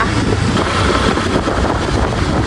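Strong wind blows steadily in the aftermath of a storm among toppled banana trees, a broad continuous rushing roar buffeting the microphone with no pauses and no voices.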